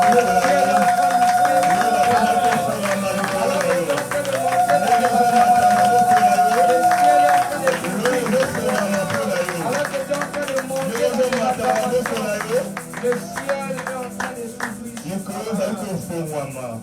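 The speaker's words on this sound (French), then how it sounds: "Oh, tu es en train de monter dans tes acclamations." A church congregation on a retreat cheers and claps in praise, a dense, loud, sustained wash of applause and voices with a held musical tone running through the first half.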